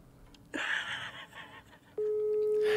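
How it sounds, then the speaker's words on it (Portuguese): A telephone call rings out with no answer: a steady electronic ringback tone comes in near the end after a brief burst of muffled noise, heard fairly faintly and alone. "Ele não quer atender o Bola"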